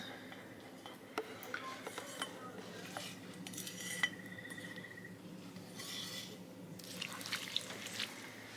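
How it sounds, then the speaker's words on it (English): Sizzled garlic scraped into a pan for peanut noodles, heard as quiet metallic utensil scrapes and light clinks over a faint sizzling background. "We're gonna scrape our garlic into here. Our sizzled garlic."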